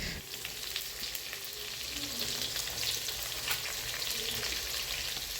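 Thinly sliced onion fries in a pan with a soft, continuous sizzle and faint crackles, heard fairly quietly and without talk.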